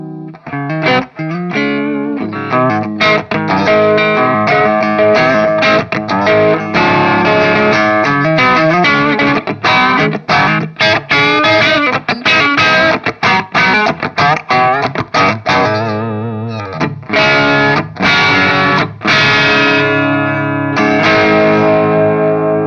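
Electric guitar runs through a Marshall AFD100 amp with its volume knob rolled back, giving a loud, slightly cleaned-up crunchy tone with echo and chorus-like shimmer, strummed continuously in busy riffs.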